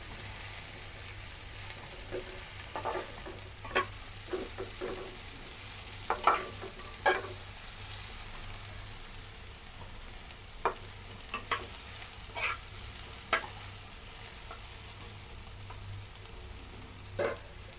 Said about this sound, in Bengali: একটু নেড়ে চেড়ে নিতে হবে। একটু হালকা ভাজতে হবে।